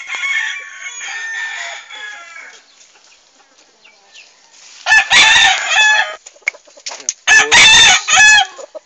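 Hens cluck and a rooster crows on a small poultry farm, with chatter that is quieter at first and then louder bursts of crowing and cackling close by.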